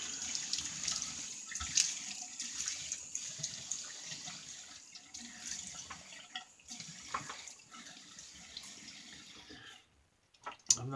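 Water from a sink tap runs steadily to wet the face before a shave, a close, continuous hissing splash with small shifts in flow, cutting off briefly near the end before starting again.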